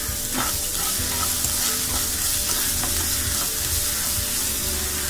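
Chopped onion with a little salt sautés in a hot pan, giving a steady close sizzle with faint stirring sounds and no talking.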